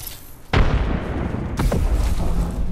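A grenade detonates with a sharp, heavy blast in the Apex Legends battle royale shooter, and a second explosive boom follows about a second later; both are loud and close, with rumbling gunfire-like noise lingering between them.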